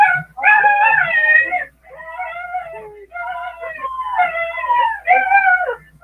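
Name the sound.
puppies howling and yipping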